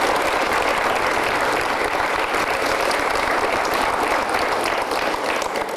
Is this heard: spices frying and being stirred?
no